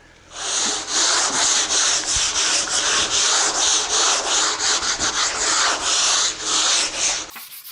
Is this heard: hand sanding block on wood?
yes